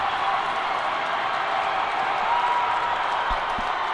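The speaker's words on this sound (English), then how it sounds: "The New Albany side of the crowd is going wild." Arena crowd at a high school district final hockey game cheers and applauds continuously after an empty-net goal, a broad steady roar with a couple of sharp knocks near the end.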